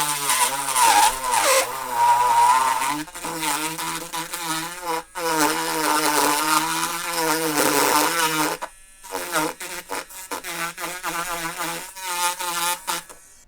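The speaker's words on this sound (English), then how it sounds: "now I've got this little grinder where I'm just going to widen this hole." A small rotary grinder widens a hole in a 1:16 scale Orca model boat, buzzing with a high whine that shifts pitch as it bites, pausing briefly midway and then running in shorter bursts.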